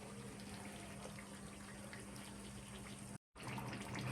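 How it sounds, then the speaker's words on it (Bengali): Water poured into a pot of beef and new potato curry as it cooks, a steady close rushing stream that runs on with only a brief cut near the end. "হালকা একটু ঝোলের পানি দেবো, তাহলেই মাংস রান্না কমপ্লিট"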